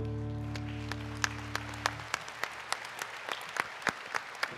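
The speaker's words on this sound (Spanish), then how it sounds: "Fuerte ese aplauso." Audience at a Catholic Eucharist service clapping, a few seconds of brisk applause mixed with sharp individual claps, after a sustained musical chord that fades out.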